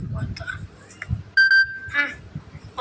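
Samsung Galaxy A14 ringtone with an eerie, alien radio signal character: a clear, sustained electronic tone holds briefly, then gives way to a burst of warbling, scattered sound among other noises.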